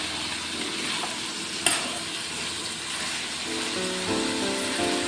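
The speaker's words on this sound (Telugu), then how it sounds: "ఇప్పుడు ఒకసారి కలుపుకొని మూత పెట్టేసుకుందాం." A flat bean and tomato curry sizzles in a pan as it is stirred, a steady close frying hiss with one sharp clink of the spoon and no talking.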